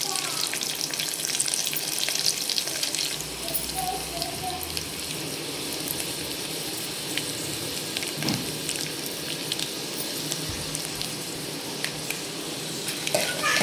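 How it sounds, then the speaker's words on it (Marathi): Curry leaves and garlic cloves spit and crackle in hot oil for a tempering, a dense continuous sizzle with scattered pops and faint clinks, steady throughout. "याच्यानंतर टाकू कढीपत्ता आणि नंतर टाकू लसूण 1-2-4 पाकळ्या"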